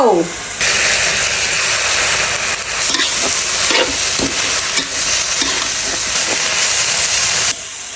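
Pork, eggplant, large chili and holy basil stir-frying in a hot pan with a splash of water, loud hissing steam and sizzle with repeated scraping tosses, close and steady throughout.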